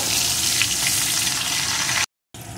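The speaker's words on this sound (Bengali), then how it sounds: "পেঁয়াজ কুচিটাও একটু ভেজে নেব" Chopped onion frying in oil for a Bengali shol fish dish, a steady loud sizzle that runs unbroken, cuts out briefly near the end, then resumes.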